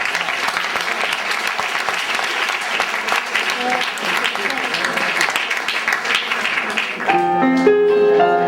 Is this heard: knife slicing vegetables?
no